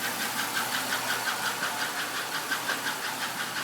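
Idling GM 3100 V6 engine with a rapid, steady mechanical ticking that repeats evenly over the low engine hum, heard close up with no talking.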